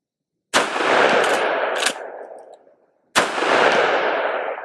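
A Marlin Dark Series rifle firing subsonic rounds outdoors, two sharp, loud, close shots a few seconds apart, each with a long echo that fades out, and no voices.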